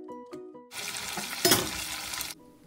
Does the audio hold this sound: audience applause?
no